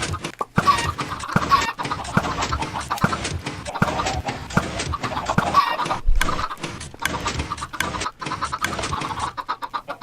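Blocky Minecraft chickens in the Jumcraft modpack cluck repeatedly over a steady machine hum, a dense run of short, close, loud clucks and clicks layered throughout.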